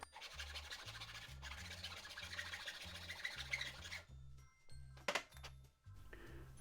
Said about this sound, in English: and then I'll sand it with the sander